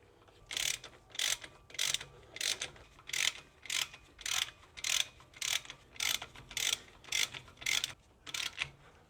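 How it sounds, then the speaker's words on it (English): A socket wrench fitted with a 14mm socket ratchets wheel hub nuts on a Toyota Landcruiser 100 Series, giving about a dozen evenly spaced bursts of clicking, close and clear, with short pauses between strokes and no speech. "you can take a socket wrench with a 14mm socket, and we're just going to do them up to push those cone washers down."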